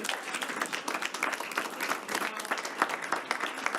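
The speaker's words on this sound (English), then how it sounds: "one big round of applause for this whole team." Enthusiastic applause from a small group at a high school event, dense rapid clapping throughout without pause.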